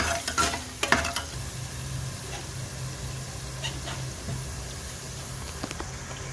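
Tomato and onion fry in a pan with a steady sizzle that runs the whole time, and a few scrapes and taps of stirring come near the start.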